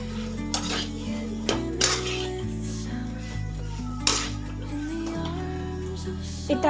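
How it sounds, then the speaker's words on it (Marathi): A spoon stirs potato filling with salt and chopped coriander in a metal pan for aloo paratha, making repeated scraping clinks and knocks at an uneven pace, with soft background music underneath. "परत त्याला व्यवस्थित मिक्स करून घ्यायचं"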